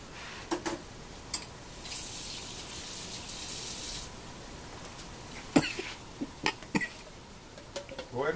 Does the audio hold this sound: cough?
yes